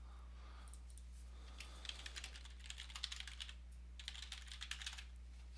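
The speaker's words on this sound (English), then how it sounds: "So I will go ahead and type in the email address." Someone types an email address on a computer keyboard, a quiet run of soft, irregular key clicks in short bursts over a low steady hum, close and faint.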